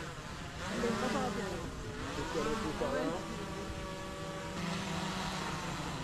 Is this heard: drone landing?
yes